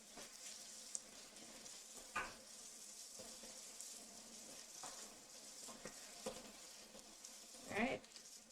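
Garlic, ginger and shiitake mushrooms sizzle in a pan, a steady faint hiss of frying broken by a few soft stirring scrapes, with no one talking.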